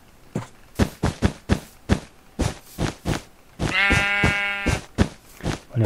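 A trapped sheep in Minecraft gives one drawn-out, wavering bleat in the middle, surrounded by a regular series of sharp clicking game sounds before and after.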